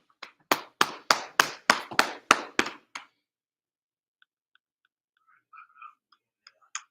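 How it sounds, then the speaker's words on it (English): A group of people at a Chicago brotherhood class clap in a quick, sharp run of about eight close claps, then fall nearly silent apart from a few faint scattered taps. "Clap it up."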